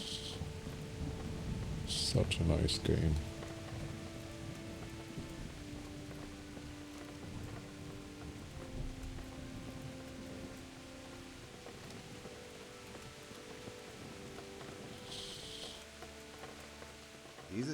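Rain taps on a roof in the Kingdom Come video game, set in 1403, as a constant gentle hiss beneath a voice and quiet background tones, with short louder bursts near the start and middle.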